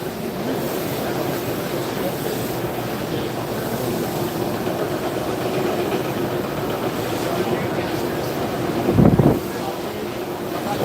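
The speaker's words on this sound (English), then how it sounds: "So loud and so windy on this floor," Steady, loud wind roar blowing across the microphone on a SEMA show exhibition floor, a constant broadband rush with a brief heavier gust near the end; no clear talk.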